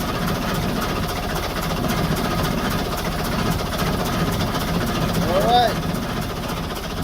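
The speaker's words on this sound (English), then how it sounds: "Alright, 8 years of sitting. Perkins 4107, fire right up." A Perkins 4-107 marine diesel on a boat idles steadily after eight years sitting in a boatyard, a continuous low rumbling chug at close range, with a brief higher squeal near the end.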